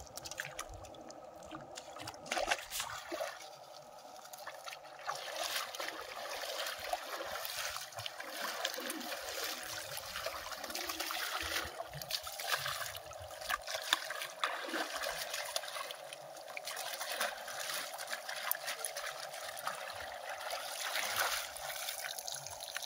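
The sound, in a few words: washing fish in river water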